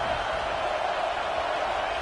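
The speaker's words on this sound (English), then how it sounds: "Here comes the noise from this big crowd in Happy Valley on 3rd down." Dense stadium crowd roar in a college football video game at Happy Valley on third down, a steady wide wash of massed voices that holds evenly throughout, loud with no distinct cheers standing out.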